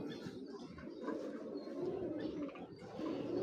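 Imported red-necked Pakistani pigeons coo in soft, low, repeated rolling calls, close and continuous, with several birds overlapping over a quiet background.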